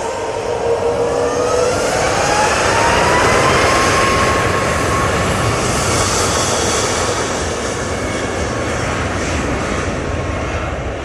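A TUI Boeing 787 Dreamliner passing at Manchester Airport, a loud, steady broadband jet roar with a rising whine, sustained close by throughout and heard alone.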